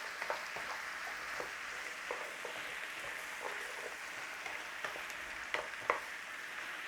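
Hard vegetables fry in a pot for a one-pot minced beef, potato and cheddar cobbler, giving a soft, steady sizzle with faint crackles and occasional stirring clicks, fairly quiet throughout.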